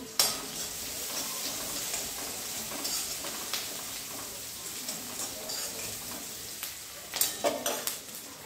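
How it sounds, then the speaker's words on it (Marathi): Chopped onion sautéing in a pan for bamboo shoot bhaji, a soft continuous sizzle with occasional stirring scrapes and a few louder spoon clatters toward the end, close and without speech. "कांदा हलकासा परतून घ्यायचा आहे गुलाबी रंगावरती।"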